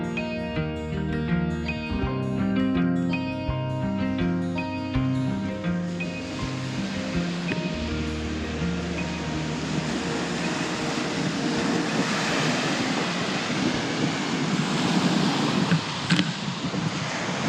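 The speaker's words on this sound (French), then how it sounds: "Réveil de nouveau au bruit des vagues." Waves break along the Lake Erie shore in a continuous rushing wash with some wind noise, coming in after a stretch of tonal music at the start.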